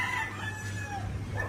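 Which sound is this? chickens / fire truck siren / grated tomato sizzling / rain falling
chickens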